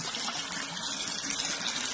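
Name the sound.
noodles rinsed under cold running water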